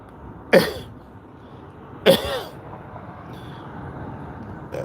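Two separate harsh coughs from two people a second and a half apart, fairly close, over a low background rumble, with no speech.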